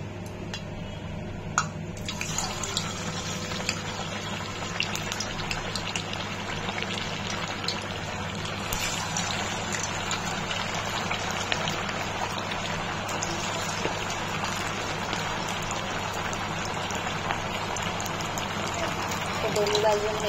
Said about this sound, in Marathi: दोन्ही बाजून हे तळून घेते।